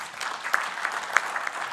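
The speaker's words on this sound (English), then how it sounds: "Another bigger clap, please." Brief applause from a conference audience, a short patter of hand claps at moderate distance with a few sharper individual claps standing out.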